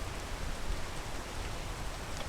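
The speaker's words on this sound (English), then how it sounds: "It's raining" Rain falls in the video game Peak, a dense steady patter of drops on surfaces with no voices.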